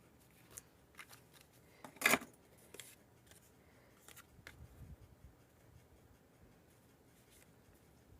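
Paper being cut with scissors for a Stampin' Up twisted easel card craft, a few soft snips and rustles, one louder cut near the middle, quiet and close.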